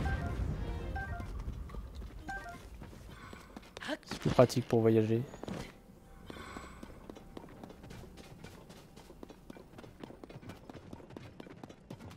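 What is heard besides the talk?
horse hooves clip-clopping in Zelda: Tears of the Kingdom video game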